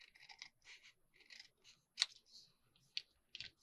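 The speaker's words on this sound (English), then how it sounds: "I'm going to cut off the other half of the back, trying not to cut the bottom of my pocket open." Scissors snip through greeting card paper while it is trimmed into a journal booklet, giving quiet, separate crisp cuts in an irregular rhythm, with one sharper snip standing out near the middle.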